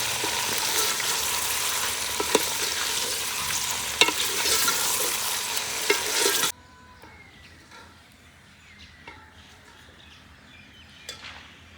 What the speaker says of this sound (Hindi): पहले चिकन डाल के इसे फ्राई कर लेते हैं।